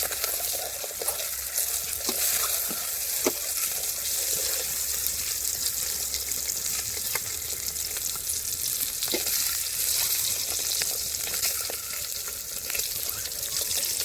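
Boiled eggs fry in a thin pan (bandi) for a dhaba-style green egg masala curry, a steady close sizzle with scattered pops and stirring scrapes, no voices.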